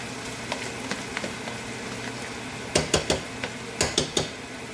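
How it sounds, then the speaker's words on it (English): Rice added to a pan of melted butter for SP-HAM fried rice, with a soft sizzle under a series of clattering utensil-against-pan knocks that come in quick clusters toward the end. "while there's still butter, we now put in the rice"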